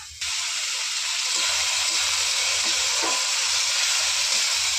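Spice-bowl rinse water poured into frying chicken masala for a chicken chaap sets off a loud, steady sizzle and hiss that runs almost unbroken, with faint stirring scrapes underneath.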